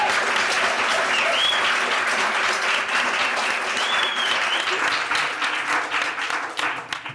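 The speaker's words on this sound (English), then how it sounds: "I think they deserve a round of applause." A crowd at a Johannesburg book launch applauds the writers with loud, sustained clapping and a few cheers. The applause starts at full strength and begins to thin and fade over the last second.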